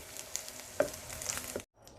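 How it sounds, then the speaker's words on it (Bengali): Chicken balls and mushrooms fry in a pan, a close steady sizzle with a few light spatula taps and scrapes, then a sudden cut to near silence before the frying resumes faintly. "চিকেন বল ও মাশরুম ভালো করে ভেজে নিয়েছি"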